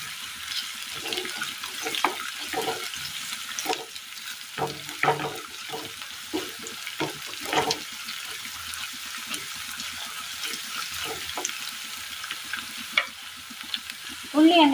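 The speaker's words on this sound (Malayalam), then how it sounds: "ഇനി നന്നായി ഒന്ന് വഴറ്റിയെടുക്കണം." Onions sautéing for a Kerala curry, with steady frying sizzle and repeated scraping stir strokes of a spoon across the pan, close and moderately loud, no voices.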